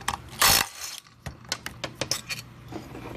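A hand ratchet loosens 10 mm bolts on a 2013 Nissan Sentra CVT transmission (RE0F11A) during disassembly, a loud burst of metallic clatter followed by a run of quick clicking ratchet strokes, close up with no talk.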